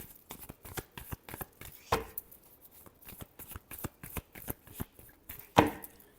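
Tarot cards are shuffled by hand in a quick run of crisp riffling slaps, with two louder snaps standing out, close and alone without any voice.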